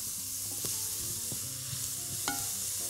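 Diced vegetables, carrots among them, go into a hot pan for rice with vegetables and béchamel, giving a loud, steady close sizzle with occasional sharp clinks of a stirring utensil.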